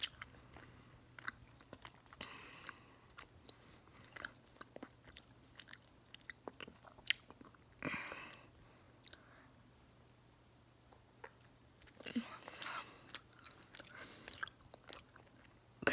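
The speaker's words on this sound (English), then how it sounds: "Now it's time for the first slice of pizza. That's chewy." Someone chews a slice of pizza close up, with quiet intermittent biting and crunchy mastication sounds in bursts over a low steady hum, with no talking.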